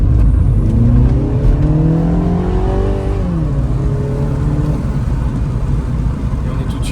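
A Mini Cooper S 60 Years Edition with 192 hp pulls hard under acceleration, its engine note loud and close, climbing steadily in pitch through the gears with no voices over it.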